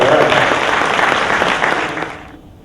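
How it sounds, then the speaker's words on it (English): Applause from a large audience at a city procurement fair, loud and close from the start, then fading away over a couple of seconds. "You can give that a round of applause."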